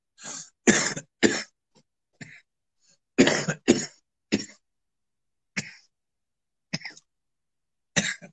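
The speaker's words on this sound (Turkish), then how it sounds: "Öksürdüm." A person coughs in short, harsh bursts, some paired and some single, scattered across several seconds with silence between them and a throat-clearing sound among them.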